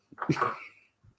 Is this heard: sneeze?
yes